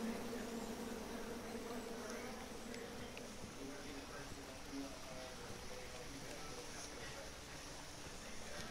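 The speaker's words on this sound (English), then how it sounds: "And then you chop down the tree full of angry bees?" Angry bees swarming from a chopped-down tree in the video game King's Quest, a continuous droning buzz that stays steady and fairly loud throughout with no break.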